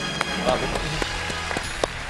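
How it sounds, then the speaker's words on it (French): A contestant named Bruno claps on a French TV quiz show, making scattered, sharp hand claps at an uneven pace against studio room sound and a faint background murmur. "Oui, Bruno applaudit, il a raison."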